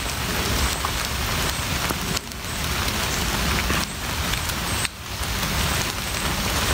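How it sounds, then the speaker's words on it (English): Steady rain falling outdoors in the woods, a loud, dense, continuous hiss of drops on surfaces with no pauses and no voices. "I know it's the rain"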